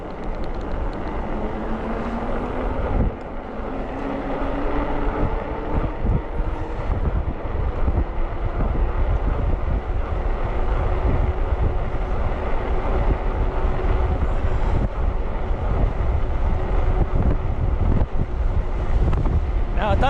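A headwind buffets the microphone while riding a G-Force T42 ebike, producing a loud, continuous rumbling roar with gusty fluctuations and a faint rising motor whine beneath it.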